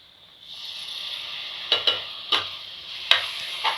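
Yogurt is stirred into a mushroom biryani masala of chilli powder, Kashmiri chilli and garam masala in a pan, with a soft sizzle and several sharp scrapes and clinks of the spoon against the pan.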